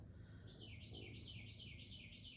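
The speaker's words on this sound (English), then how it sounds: "can you hear that bird? I hope you can." A faint bird sings a fast, warbling trill of repeated rising and falling notes, distant over a low steady background rumble.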